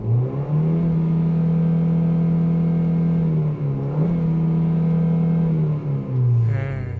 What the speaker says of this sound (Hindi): और जैसे कि 1500 सीसी का इंजन है तो रिफाइनमेंट बढ़िया, एक बार एक्सेलरेट करना मोटर को।